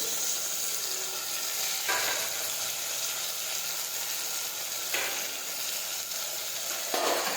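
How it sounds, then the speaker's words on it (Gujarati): Chopped tomatoes sizzle steadily in a hot pan while cooking a Gujarati chori (black-eyed bean) curry, a continuous close frying hiss with brief stir bursts near two, five and seven seconds, no talking. "હવે આપણે સમારેલા ટમેટા નાખી દઈશું"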